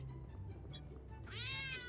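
A cat lets out a short, bright meow near the end over a low, steady background hum.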